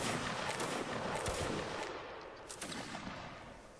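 Gunfire during a video game training session of a 3rd Virginia regiment, a dense rumbling volley of shots and blasts that fades slightly over time, no talk.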